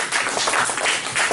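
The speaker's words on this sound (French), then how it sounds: "Bravo, on l'applaudit bien fort." An audience claps at a karaoke championship award ceremony, a brief dense burst of applause from a crowd heard close and fairly loud.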